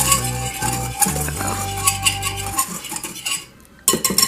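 Pumpkin bite dry ingredients with ginger and salt are mixed in a bowl, with steady clinking and scraping of a utensil against the bowl and a brief pause near the end.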